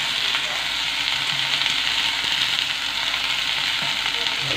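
Yardlong beans and potatoes frying with a little salt in a pan, giving a loud, dense, continuous sizzle that holds steady throughout with faint occasional clinks.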